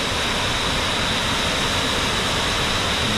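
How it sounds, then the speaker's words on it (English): Small waterfall near the South Gate of Yosemite, not running heavily, giving a steady, dense broadband rush of falling water that holds even and continuous throughout, fairly close and with no voices. "got a bonus waterfall here"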